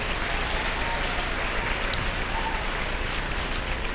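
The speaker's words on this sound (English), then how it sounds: "Please give them all a huge round of applause." An audience at a school classical dance competition applauds after the performances, a dense, steady patter of many hands clapping throughout without a break.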